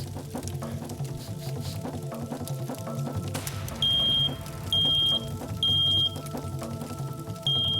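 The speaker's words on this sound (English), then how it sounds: "the smoke alarm in the downstairs hallway goes off" A smoke alarm in a downstairs hallway of a smoke-filled house sounds in repeated short, high, piercing beeps spaced about a second apart over a steady, busy background din.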